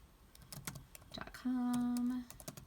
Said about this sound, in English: you're going to go right here and type in easybib.com